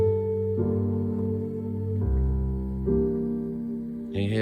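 Piano playing a dominant seventh chord built on the tritone with the 9th and 5th, a series of sustained voicings shifting every second or so, ending on a new chord with a brief bright touch.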